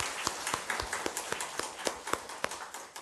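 A church congregation at a Sunday service claps to welcome a new member, giving a steady patter of individual hand claps with distinct sharp hits that carry on evenly throughout.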